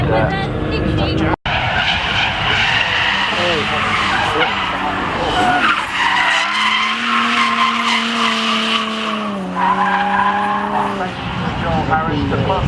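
A purple Nissan drifting at Castle Combe during a drifting action day, tyres screeching in long sustained skids with a roaring engine changing pitch, close and loud, with a commentator talking over it.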